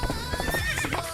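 A horse whinnies in a short, bright burst of rising and falling neighs over a busy background with rhythmic clopping, heard close in a playful doll-crafting setting.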